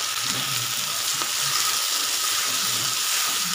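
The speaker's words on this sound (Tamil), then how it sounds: "தக்காளி நல்லா வதங்கட்டும்." Three chopped tomatoes frying over softened onions in a pan for pepper chicken gravy, a steady, dense sizzle throughout with faint scraping of a stirring spoon underneath.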